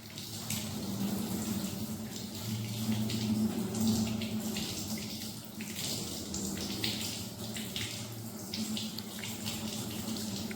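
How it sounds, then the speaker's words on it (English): Tap water runs steadily into a sink while hands are rinsed, a close, even splashing with small shifts as the hands move through the stream, with no talk. "Rinse the hand."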